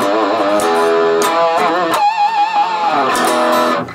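An electric guitar plugged straight into a Heart Attack amp with gain maxed and heavy distortion plays loud, gritty chords and sliding notes, dense and sustained with brief pauses.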